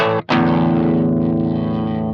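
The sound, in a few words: clean electric guitar tone through Simplifier DLX amp simulator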